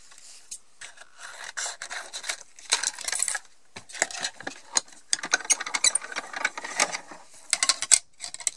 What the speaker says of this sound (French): là j'utilise la petite machine parce qu'il n'y a pas besoin d'utiliser une grande